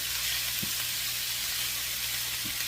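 A steady bright sizzle of food frying in a hot pan fills the clip, with a couple of soft clinks underneath.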